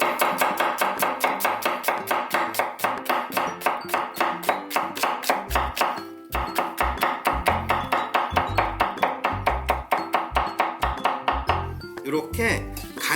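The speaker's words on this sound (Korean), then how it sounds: "이렇게 가늘게 썰어 주셔야 깻잎하고 잘 어울려요" A knife cuts an onion into thin slices on a cutting board with rapid, even, close knocks against the wood, pausing briefly, then resuming at the same brisk pace.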